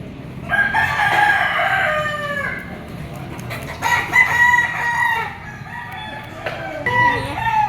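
Several sweater gamefowl roosters crowing one after another, loud and close, with overlapping drawn-out cock-a-doodle-doo calls and a few clucks between them, against low background noise.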